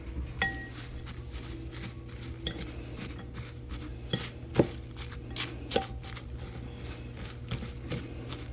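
A fork mixing a salad of red cabbage, kale and radish in a bowl, making irregular light clinks and scrapes against the dish over a soft steady background.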